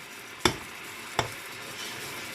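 Masala for a chicken and potato roast cooks dry on a high flame, a soft steady sizzle broken by two sharp spoon knocks against the pan.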